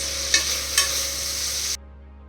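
Onions frying in a pan while an egg biryani is cooked, a steady broadband sizzle with two brief stirring scrapes near the start before the sound cuts off sharply near the end.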